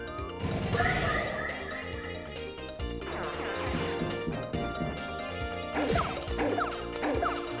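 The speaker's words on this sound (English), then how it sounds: "let's just start off with a little earth-shattering power quake, whatever this thing was called" Paper Mario's earth-shattering Power Quake attack lands in a jumble of crashing smashes and whacks over bright game music and effects, repeated impacts rolling through for several seconds.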